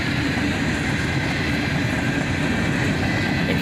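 A freight train of old, battered, patched hopper cars rolls past close by, a loud continuous rumble and rattle of wheels on rails holding steady throughout with no one talking.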